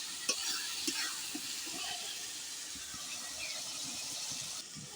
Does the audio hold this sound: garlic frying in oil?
yes